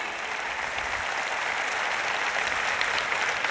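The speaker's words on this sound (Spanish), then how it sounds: "Dale ese aplauso al Señor." A large church congregation applauding during a sermon, a dense, steady wash of clapping that keeps an even level throughout with no talking.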